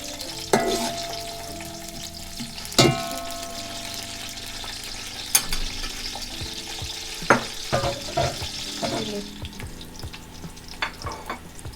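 Onions browning in a pan for achari chana pulao, a steady close sizzle of frying with sharp clatters of a spoon stirring at intervals, no voices.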